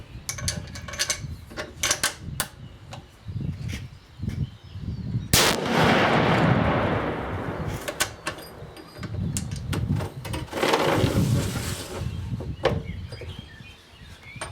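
A rifle fitted with a T4 Terminator muzzle brake fires two loud, sharp shots several seconds apart, each with a booming tail, between clicks and handling of the bolt and gear nearby.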